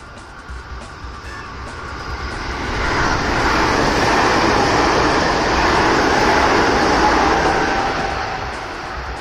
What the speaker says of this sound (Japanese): 今度は1番線に電車が通過します